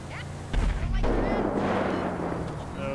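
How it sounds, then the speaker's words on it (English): A heavy explosion in Grand Theft Auto V bursts out near the start and rumbles on, then fades into a long, noisy roar with some faint tonal sounds in the background. "what was that explosion?"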